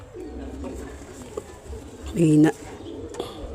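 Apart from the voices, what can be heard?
pigeon cooing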